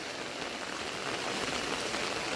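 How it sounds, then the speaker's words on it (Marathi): Heavy monsoon rain pours down steadily in the Konkan countryside, a dense, even hiss of drops with no breaks and no voices. "तसा पाऊस बघा ना केवढा पडतोय"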